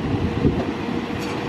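A Class 197 train pulls out of Crewe station, its steady broadband rumble and rolling wheel noise holding close and loud throughout, with a brief brighter hiss near the end.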